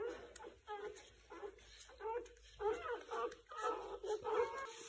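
Newborn German shorthaired pointer puppies whimper and yip repeatedly in high, thin cries, close by, while someone speaks warmly over them.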